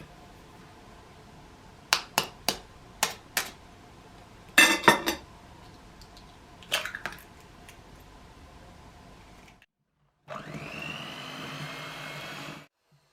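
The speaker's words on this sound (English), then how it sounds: "Beat in 1 egg." An egg being beaten into creamed margarine and sugar: a string of crisp taps and clinks against a bowl, then a steady whirring beat that runs for a few seconds and stops abruptly.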